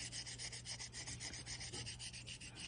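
Hand sanding of a polymer clay stripe cane with fine 1500 grit paper, rhythmic scratchy rubbing strokes repeating evenly up close with no voices.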